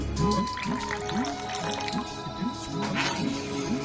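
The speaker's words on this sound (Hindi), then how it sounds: "फ्लेवर के लिए इसमें डालूंगी मैं केसर।" Saffron-infused warm milk poured into semolina halwa in a cooking pan, a close, wet bubbling and dripping sound with a steady repeating rhythm throughout.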